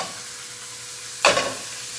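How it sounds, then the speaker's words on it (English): Sliced onions dropped into a hot oiled pan for grilling give one sudden loud sizzle that quickly settles to a softer hiss, close and alone. "I'm going to put the onions in there so they can grill"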